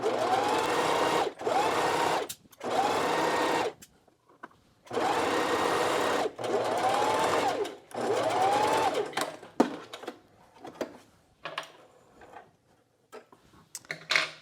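Sewing machine stitching a curved seam through pant fabric, running in several sustained bursts separated by short pauses, close and fairly loud, with softer handling noises toward the end.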